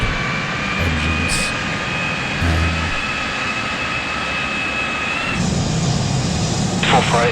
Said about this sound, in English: its engines, are really super loud